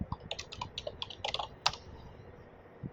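A computer keyboard is typed on in a quick burst of light key clicks, then a louder single keystroke and a short pause before one more tap, close and quiet with no talking.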